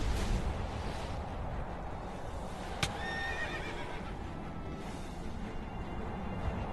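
A horse neighs in Minecraft's D&D DLC against a steady, dense background roar, with a brief sharp sound partway through.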